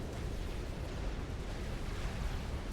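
A nuclear missile detonates in the strategy game Supreme Commander Forged Alliance, giving a dense, sustained roaring rumble that stays loud and steady throughout, with no distinct onset or fade.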